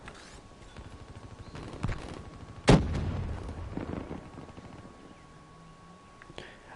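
Gunfire in Call of Duty: Black Ops III, with one sharp, loud shot standing out among scattered fainter shots and some game noise, and no talking.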